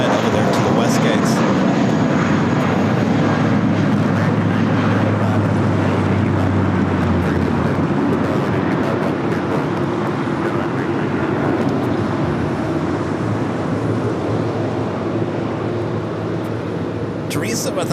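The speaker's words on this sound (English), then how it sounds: "the second Air Tahiti Nui Dreamliner coming in from Papeete. Also touching down here on the south side." An Air Tahiti Nui Dreamliner arriving from Papeete touches down on LAX's south side, a loud, steady engine roar with wind buffeting the microphone and someone talking over it.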